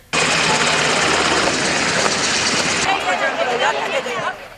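A loud military helicopter carries a soldier's coffin from Hatay to Kahramanmaraş in Turkey. Its steady engine and rotor roar continues throughout and eases slightly toward the end.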